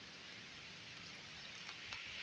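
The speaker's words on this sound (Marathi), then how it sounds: "मित्रांनो पाऊस चालू आहे" Steady, soft rain hiss over a village rice field, an even wash of patter with no voices and no breaks.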